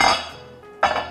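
Two bright clinks of dishes, close and crisp with a short ringing tail between them, while Japanese curry rice is being plated in a home kitchen; no one speaks.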